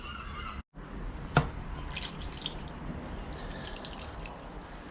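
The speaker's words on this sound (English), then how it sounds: "Pour some water over it now. Just rinse it." Water poured over Yamaha QT50 moped engine parts to rinse them outdoors, a steady close splashing wash with one brief drop-out and a single sharp knock, no voices.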